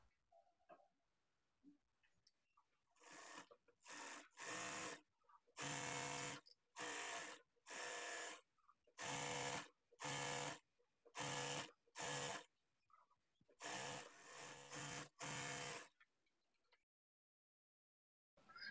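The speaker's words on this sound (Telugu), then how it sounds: "ఈ గ్యాదరింగ్ ఫ్రూట్ తో ఫ్రిల్స్ ఎలా స్టిచ్ చేసుకోవాలో చూద్దాం" A sewing machine fitted with a gathering foot stitches frills for a layered frock, running in about ten loud bursts of steady mechanical whirring separated by short pauses, with no talking.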